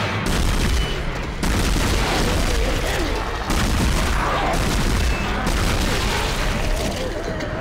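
Dense, continuous blasts and booming bursts from Dead Space combat on Xbox 360, rapid overlapping explosions and gunfire-like cracks at high loudness, with a couple of brief dips between barrages.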